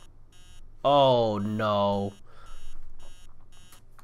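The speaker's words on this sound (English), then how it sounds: "That alarm clock is so annoying." A ringing alarm clock in the horror video game Emily Wants to Play Too gives a loud, steady electronic tone lasting about a second, near and harsh, with a brief exclamation from a person before it and game ambience after.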